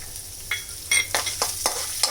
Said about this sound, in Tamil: இப்போ இந்த தேங்காவை இதில் வறுத்துக்கலாம்